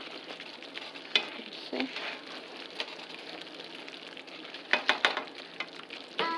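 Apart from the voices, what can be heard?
stirring sizzling sauce in pan for enchiladas verdes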